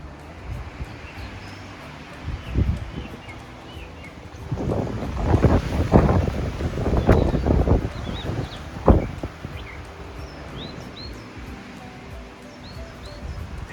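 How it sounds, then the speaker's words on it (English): Wind gusts swell and fade around the listener in the dark, a broad rushing that builds to a loud peak midway with buffeting against the microphone, then eases back to a steady low roar. "You can hear the wind, you can feel it all around us."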